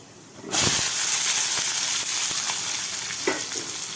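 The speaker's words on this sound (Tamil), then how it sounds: "வெங்காயம், வெள்ளைப்பூடு கலவையை அதில் போட்டிருக்கேன். இதை நல்லா வதக்கணும்." Onion and garlic mixture tipped into hot oil for a Tamil kuzhambu, bursting into a loud, steady sizzle after a half-second of quiet, with faint stirring clicks throughout.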